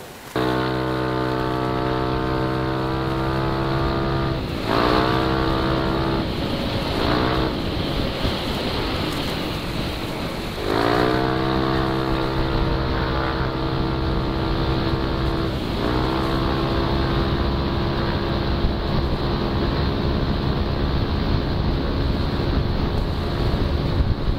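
A Yamaha NMAX 155 scooter running on patrol oil revs up repeatedly. Its engine rises in pitch in several loud accelerating surges, each easing off before the next pull, with wind noise throughout.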